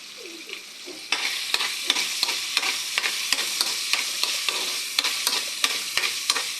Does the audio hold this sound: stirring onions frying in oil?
yes